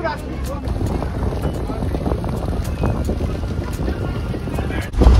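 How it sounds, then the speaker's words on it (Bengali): A boat sets off on a Sundarbans river ride through the mangrove forest, giving a steady low engine rumble and water wash mixed with constant wind buffeting, fairly loud throughout and heavier near the end. "আর আমাদের বোটটা বেরোচ্ছে এখন এখান থেকে।"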